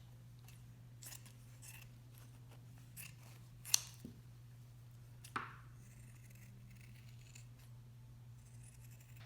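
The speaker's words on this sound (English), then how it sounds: "I'm going to trace this lid part onto my piece of felt and cut that out." Scissors snip through a piece of felt to cut out a circle, with a few soft, scattered cuts and one or two sharper clicks over a steady low hum in a quiet room.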